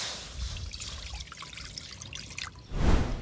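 A little water trickles into a wok being readied to boil drumstick leaves for a fish dish, a steady close pour and dribble that ends in a louder low splash.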